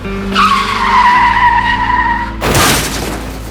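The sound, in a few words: car skidding out of control and crashing into a big tree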